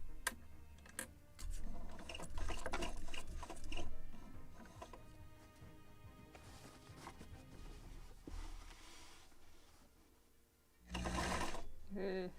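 A sewing machine runs a seam on small sails for a model of the 1776 gunboat Philadelphia, whirring and clicking steadily with a busy mechanical rattle, then pausing before one louder final burst.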